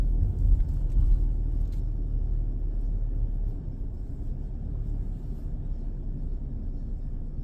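A car driving slowly, heard from inside as a steady low engine and road rumble that eases slightly halfway through.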